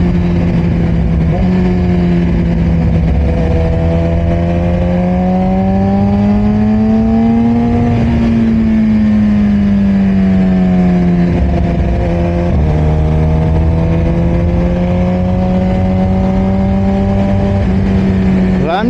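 A Suzuki GSX-R1000 motorcycle with a Brock's aftermarket exhaust roars loudly up close, its pitch rising and falling through several throttle swells as it accelerates and eases off, no talking.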